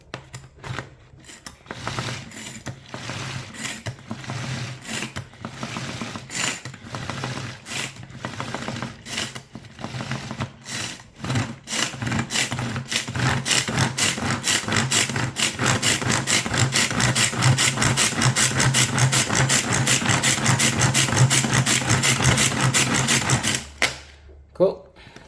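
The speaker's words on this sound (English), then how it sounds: "I'm going to quickly grind them." An electric grinder chops frozen tomatoes for a chicken curry, first in short uneven pulses and then in a louder sustained whirring grind that cuts off abruptly near the end.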